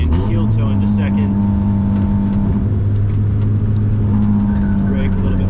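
Car braking for a hairpin with a heel-toe downshift into second gear, the engine droning loud and steady with a brief rev blip in the middle while the driver talks over it.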